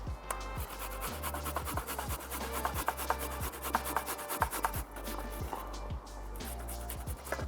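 Fresh ginger rubbed against a grater outdoors beside a barbecue, a steady run of rasping strokes at close range, repeating about twice a second with a low rumble underneath.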